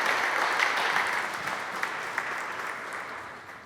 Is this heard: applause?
yes